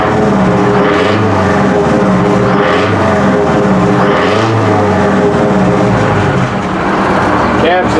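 A Detroit 8V71 two-stroke diesel idles in a 1968 Kenworth W900A with a worn-out frame, suspension and steering. It gives a loud, close, continuous rumble with a rhythmic pulsing throb that swells and fades.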